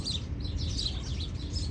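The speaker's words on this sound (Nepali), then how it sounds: "चरारै चरा" Small birds chirp and twitter in a fruiting tree in a farm orchard, quick repeated high calls over a steady rustling background, moderately close and continuous.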